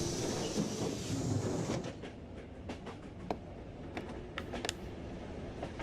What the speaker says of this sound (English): Or I just have to go back on the train?